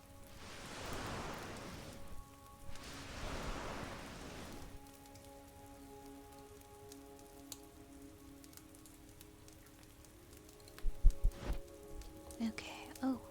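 Soft, steady rainfall with a fine hissing patter, heard through a binaural 3Dio ASMR microphone. Two breathy swells come early, a faint tonal hum sits underneath, and a few close taps and knocks rise near the end.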